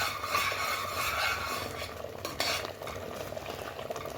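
Semolina (rava) for upma being stirred in a pan, giving a continuous dry scraping and rustling with faint frying sizzle throughout and a slightly louder scrape midway.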